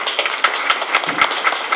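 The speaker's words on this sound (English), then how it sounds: "please give my staff a round of applause" Several people in a school board meeting room clap for the school staff, a short, sparse patter of distinct individual claps, moderately close, with no one speaking over it.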